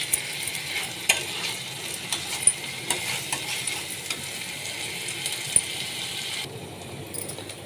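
Grated coconut frying in a pan while being stirred, a steady close sizzle with repeated scraping and metallic clinks of the spoon, quieter toward the end; no talking.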